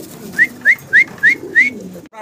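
Pigeons for sale at a Bengali market dealer's stall coo in five evenly spaced, clear calls, close by and loud over a low background murmur, with no talk.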